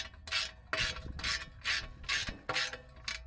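Ratchet wrench backing out the 10 mm bolts that hold the stock brake dust shield on a G82 BMW M4, five quick bursts of clicking, close and fairly loud, with no talk.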